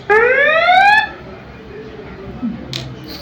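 A vibration switch sensor triggers an electronic alarm that sounds as a loud rising chirp sweep lasting about a second, followed by quieter clicks and small handling noises.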